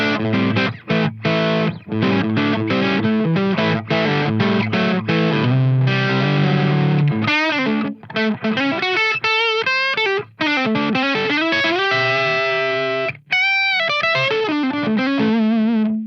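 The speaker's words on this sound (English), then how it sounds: "which is based on the Wampler Euphoria transparent style overdrive" An electric guitar run through an overdrive amp plugin modeled on the Wampler Euphoria plays a fluid, mildly distorted lead with sustained notes and quick runs, loud and up front with no talking.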